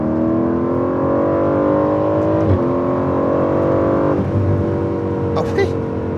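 Aston Martin V8 Vantage with a twin-turbo V8 pulling hard, a loud steady engine drone rising in pitch through the gears from inside the cabin, with people talking over it.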